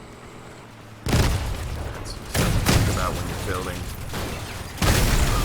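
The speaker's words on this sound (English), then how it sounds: "Great explosions." Loud booms and bursts of explosions in the vehicle combat video game Crossout hit one after another, each a sudden broadband blast with rattling debris after it, while someone talks over the action.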